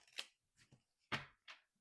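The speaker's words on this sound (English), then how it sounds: "shuffling until I feel that I'm ready to not shuffle." Soft, quiet bursts of tarot cards being shuffled, a few brisk riffles with short pauses between, close by and faint, no talking.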